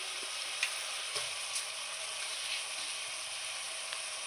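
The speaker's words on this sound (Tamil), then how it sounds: "ஊற வச்ச அரிசியை போடுறேன்." Soaked rice tipped into hot oil in a cooking pot for mushroom biryani, a steady loud sizzle and crackle with a few faint clinks and pops throughout.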